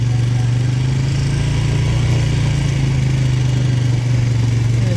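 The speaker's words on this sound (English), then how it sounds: "So look at that mower. 9 foot wide. Cuts beautifully." A tractor-pulled 9-foot-wide hay mower runs steadily, a loud, constant low engine drone with a mechanical hum that holds without a break.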